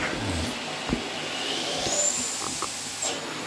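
A steady vacuum cleaner drone runs throughout, with a broad hiss and a few faint knocks as the nozzle moves.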